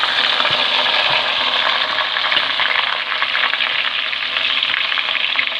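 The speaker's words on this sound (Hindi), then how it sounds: "अब इसमें जी मैं चिकन डाल रही हूँ।" Chicken pieces frying with browned onions in a pot for Pakistani-style biryani, a loud, steady sizzle with crackling spatters close by and no voices.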